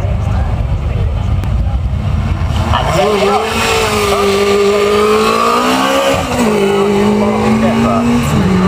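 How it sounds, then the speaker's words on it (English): A highly developed Mini race car fitted with BMW cylinder heads powers up the Shelsley hillclimb, its loud engine droning and revving with pitch climbing, dipping at a gear change and rising again. "Very well developed Mini, got BMW cylinder heads on the original"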